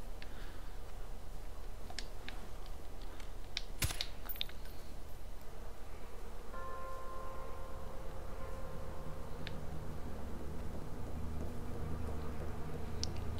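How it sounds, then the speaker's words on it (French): Bees buzz in the video game Far Cry 4, a faint steady drone under mechanical creaks, occasional sharp clicks and one loud thump, with a low tonal hum joining partway through. "Bon, elles sont censées être dangereuses, les abeilles."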